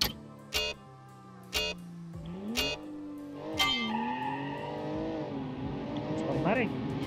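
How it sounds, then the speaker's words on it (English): A 2019 convertible's engine and turbo drone while driving, with a steady low exhaust note whose pitch steps and rises through gear changes, broken by a few sharp knocks early on. "we can hear the exhaust. We can hear the turbo also"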